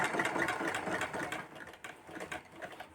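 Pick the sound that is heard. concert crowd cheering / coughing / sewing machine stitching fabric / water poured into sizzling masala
sewing machine stitching fabric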